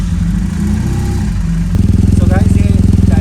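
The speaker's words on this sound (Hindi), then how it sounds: "ये टाइटेनियम एग्जॉस्ट आप देख सकते हैं एक्स्ट्रा पावर का। सो इसकी बैटरी वगैरह निकाली थी, अभी थोड़ा सा साउंड बढ़ा है, बट स्टिल डिसेंट साउंड है।" A BMW GS 1200 Adventure motorcycle with a titanium aftermarket exhaust runs close by, a steady engine rumble that becomes louder and more pulsing partway through, with a voice talking over it.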